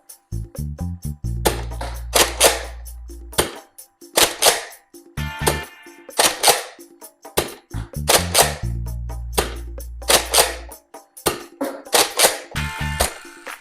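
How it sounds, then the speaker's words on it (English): A Nerf Modulus Longstrike dart blaster fires repeatedly and close by. The sharp, snappy shots come in an uneven rhythm, and low mechanical priming clacks and thumps fall between the bursts. "let's get to a firing test with the Modulus Longstrike and see how it performs"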